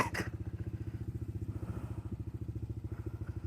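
A Lark A1 motorcycle engine warms up with a steady, rapid low-pitched putter, its firing pulses even and close throughout after a brief clatter at the start.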